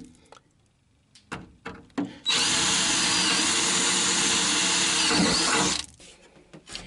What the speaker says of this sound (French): Et alors là, opération perçage. Alors, je commence avec un foret de 5